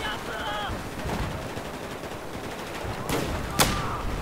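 Gunfire in the video game Battlefield 4: two sharp, loud shots ring out near the end over a steady rumble of battlefield ambience.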